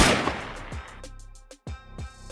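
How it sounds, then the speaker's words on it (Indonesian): Several sharp gunshots in a tense chase, a dense burst early on followed by separate loud cracks spaced about half a second apart. "Dalam sekejap, suara tembakan bergema."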